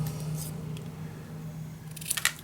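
Scissors make a few quiet snips and crisp crunches as paper is cut diagonally for a paper bag mini album, faint against a low steady hum, with the clearest cuts near the end.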